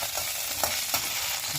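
Green chillies frying in hot oil for peanut chutney make a dense, close crackling sizzle with a couple of brief sputtering pops, brief and unbroken by speech.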